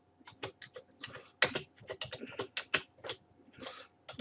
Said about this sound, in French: Je clique sur texte et je tape le texte qui m'intéresse.